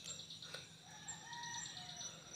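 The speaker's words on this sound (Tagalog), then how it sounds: "yan yung tilaok ng ligaw" A wild rooster crows from a distance, faint and drawn out, over a steady outdoor background with birds chirping nearby.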